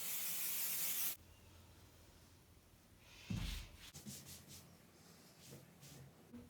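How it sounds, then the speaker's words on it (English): A short, loud hiss of spray lasts about a second beneath the corner of a quilt. Quiet fabric rustling and handling sounds follow. "give a little spray under each corner"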